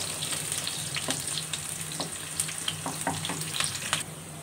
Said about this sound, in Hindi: अब हम इन प्याज़ों को ब्राउन करेंगे अच्छे से।